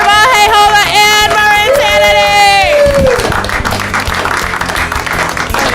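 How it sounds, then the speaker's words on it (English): A comedy-show audience breaks into loud applause and cheering that fills the second half, after a stretch of amplified voice. "How about one more round of applause for all the comics you saw tonight?"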